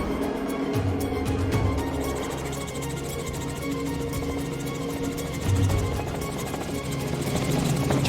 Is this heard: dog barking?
no